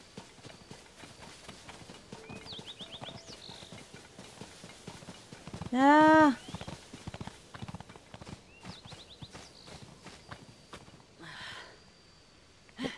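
Steady clip-clop of horse hooves in Zelda: Tears of the Kingdom throughout under quiet game ambience, with a short loud neigh around the middle and a brief exclamation from a voice.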